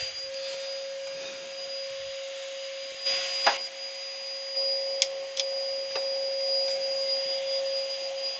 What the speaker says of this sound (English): Put the extractor on.